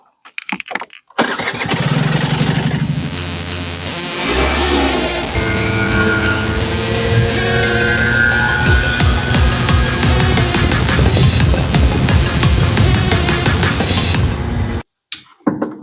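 A Vespa LX 50 scooter, recently fixed after heavy smoking, cranks and starts with a sputter, then runs loud and close at a steady buzzing idle with slight revs for over ten seconds before cutting off abruptly.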